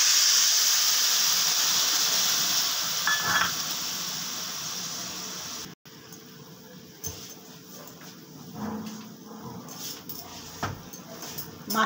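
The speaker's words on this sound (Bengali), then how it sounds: "মাছের ঝোলটা ফুটে উঠেছে" A pan of chitol fish curry broth boils with a steady bubbling hiss that runs continuous and fairly loud. A sharp clatter of cookware breaks in midway, then quieter simmering and small kitchen knocks follow.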